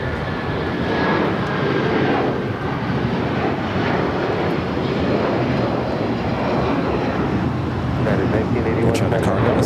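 A JetBlue airliner rolls for takeoff on runway 25 right at LAX, its engines a loud, steady roar with wind buffeting throughout, while a voice talks over it.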